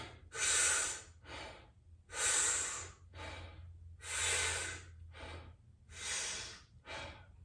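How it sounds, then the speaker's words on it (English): Deep belly breathing demonstrated up close: four slow, loud inhale-exhale cycles of airy breath, each a broad hiss rising and fading in a steady rhythm, with no talking. "So that very simply is belly breathing."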